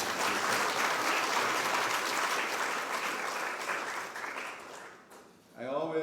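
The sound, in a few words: audience applause at an awards gala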